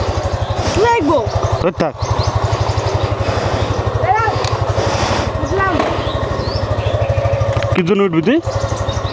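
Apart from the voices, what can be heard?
motorcycle engine idling before a morning ride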